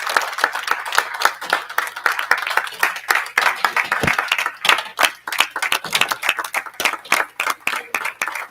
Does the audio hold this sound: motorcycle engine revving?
no